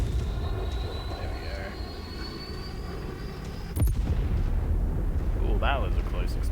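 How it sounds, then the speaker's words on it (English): A close explosion in the mech combat video game Mechwarrior 5 hits as a sharp broadband blast partway through, followed by heavy rumbling battle noise, with an engine-like drone running throughout. "Oh, that was a close explosion."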